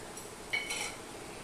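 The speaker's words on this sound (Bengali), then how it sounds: "এটা আমি ভালো করে নেড়ে চেড়ে নিলাম মিশিয়ে নিলাম" A metal spatula stirs and scrapes Kashmiri chilli powder and sugar in oil in a pan while cooking masala bhindi, with a couple of brief clinks and scrapes near the middle over a quiet background.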